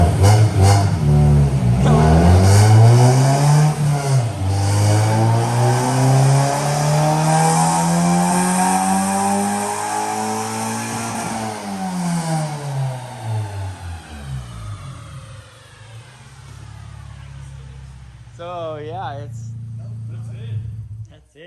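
A car engine with a slipping, burning clutch revs hard and drops, its pitch sweeping up and down in long surging whines, close and loud, while someone talks over it.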